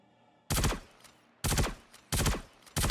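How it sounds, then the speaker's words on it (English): Gallant rifle firing in a video game, four loud single shots spaced roughly a second apart, each a sharp crack with a brief decaying tail, with near silence between them. "I take up a position at distance, and I just start picking them off"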